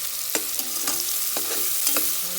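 Garlic, a generous amount, frying in oil until browned for a chicken curry, a steady close sizzle with a few soft stirring scrapes of a utensil in the pan; no voices.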